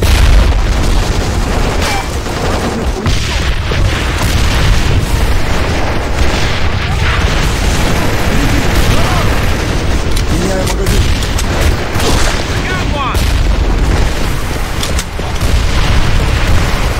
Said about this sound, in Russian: Граната противника!